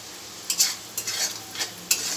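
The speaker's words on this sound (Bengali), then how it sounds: "আমি আরেকবার লেড়ে দেবো।" Spices, red chilli and coriander powder with salt stirred in a pan for prawn malai curry, giving a few short scraping sweeps with a soft sizzle between them, close and alone.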